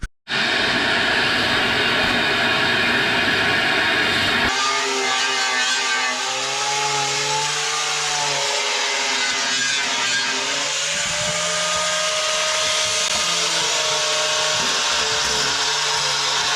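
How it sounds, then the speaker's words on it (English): A power sander grinds steadily inside the cramped hull of a boat, a loud continuous whine with a gritty buzz that shifts in pitch as the tool works, close and alone with no talking. "That's where we'll be sanding."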